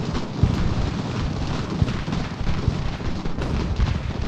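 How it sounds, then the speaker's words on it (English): Cannon artillery fire in the American Revolution battle game Ultimate General, a dense rumbling roar of distant booming shots that overlap into a continuous battlefield din with a few sharper thumps. "Don't really like what those cannons are doing."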